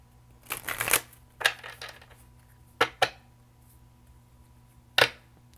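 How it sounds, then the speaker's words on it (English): Tarot cards are shuffled in quick riffling bursts, followed by a few sharp taps and snaps of the deck in a quiet room. "One more shuffle."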